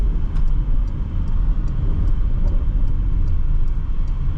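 A 2022 Porsche Cayenne GTS Coupe on the move gives a steady, loud low engine drone and road rumble that runs continuously, with faint regular ticking on top.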